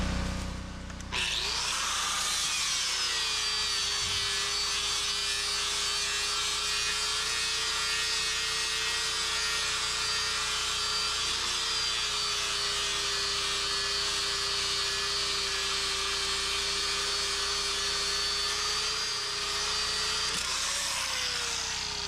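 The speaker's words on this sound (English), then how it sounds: "So right now I'm just going to demonstrate a bad sharpen and a good sharpen." A sharpening tool grinds the teeth of a forestry mulcher cutterhead in a steady, continuous high-pitched whine with a rasping edge, running without a break for about twenty seconds before stopping.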